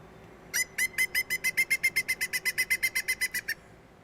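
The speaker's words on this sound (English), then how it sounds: "Here's for the listeners there, the call of the pileated woodpecker." Pileated woodpecker calling: a rapid, even series of about twenty loud, ringing notes lasting around three seconds, clear and close over faint background hiss.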